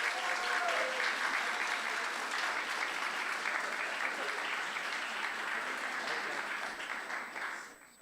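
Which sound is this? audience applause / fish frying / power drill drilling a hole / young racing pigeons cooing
audience applause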